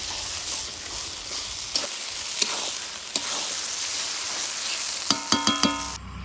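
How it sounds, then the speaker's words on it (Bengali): Mutton fat sizzles and fries steadily in a pan, stirred throughout, with a few scraping strokes of the spoon and a burst of sharp clinks against the metal near the end. "এবার খাসির ছাদ খানো পর বেশ খানিক্ষণ ধরে নাড়ি চাড়ি নিব"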